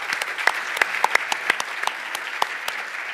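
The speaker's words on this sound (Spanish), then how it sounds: "a las cuales desde aquí yo pediría un fuerte aplauso" Applause at a political debate, a modest audience clapping in quick scattered claps that stay fairly close and even for a few seconds.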